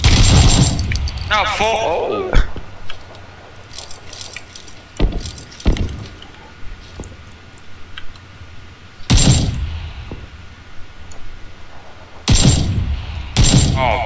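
AK rifle fire in PUBG, heard as a few sharp, loud bursts scattered across the span between stretches of quieter ambience, with people talking over parts of it.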